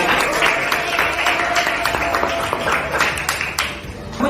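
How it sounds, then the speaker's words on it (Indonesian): Applause from a classroom group fills the clip, a steady patter of clapping with a few sharper claps standing out, fairly close. "tepuk tangan untuk kelompok 6."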